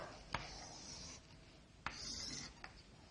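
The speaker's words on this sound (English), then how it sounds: "I'm writing this information here." Marker or chalk scratches across a classroom board in two longer rubbing strokes with brief taps at their starts, close and fairly quiet, with no talk over it.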